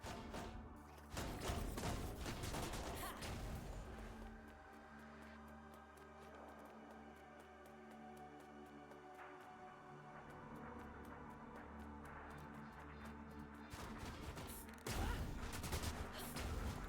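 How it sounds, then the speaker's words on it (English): Bursts of rapid gunfire crackle in the steampunk medieval roguelite Reign Breaker, faint and quiet overall, with one flurry early and another near the end over a low game soundtrack. "Man, I'm not used to seeing gunfire be on my side, though."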